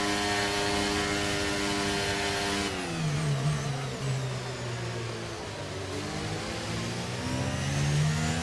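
Formula 1 car engine in the F1 23 racing game, a loud sustained whine with harmonic pitch that shifts as the car slows after the race and then revs back up, with no voices.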